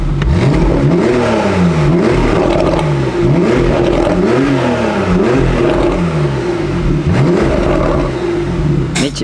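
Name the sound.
Porsche 991.2 Carrera 4 GTS engine revving, pop and bang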